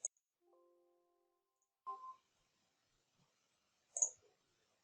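A computer mouse gives a few faint, sparse clicks in a quiet room, isolated taps spaced more than a second apart.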